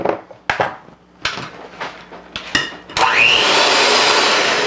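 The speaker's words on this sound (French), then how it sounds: "Un malaxeur, on va brasser le tout." Clatter and knocks of bowl and utensils give way to a steady, loud whir as an electric mixer starts whipping egg whites to stiff peaks for a pineapple dessert, the motor droning on continuously at close range.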